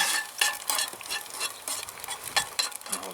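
Food cooking in butter in a pan for a pizza-and-salad meal, crackling and spitting in quick irregular bursts close by, with light stirring and no voices.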